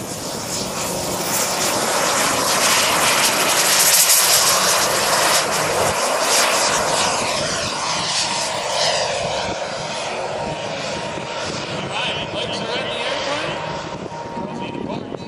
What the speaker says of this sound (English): The A-10, designed to drive a 30mm 6-barrel Gatling gun around the battlefield to take out tanks and protect our ground troops.